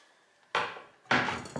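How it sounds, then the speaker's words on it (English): Chopped garlic goes into a frying pan while cooking vegetables: two sudden bright bursts of sizzling hit the hot pan about half a second apart, each starting sharply then easing off, close and fairly loud. "garlic is done. Insert it into the frying pan."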